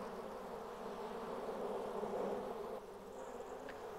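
Honey bees buzzing in a continuous dense drone, close and steady, with the hum holding at a constant level and dipping slightly near the end.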